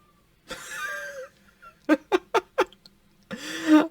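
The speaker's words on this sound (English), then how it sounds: "My brother's cat just yelled at that." A house cat yowls indoors: a drawn-out cry, then a quick run of four short, sharp yelps, then another loud, strained yowl, all fairly close with quiet gaps between.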